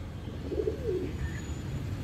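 A female Kalanka pigeon gives a soft, low coo of two or three notes, faint and close, over a steady background hum, with no voices.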